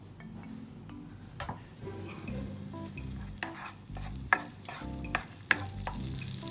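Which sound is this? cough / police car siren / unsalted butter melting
unsalted butter melting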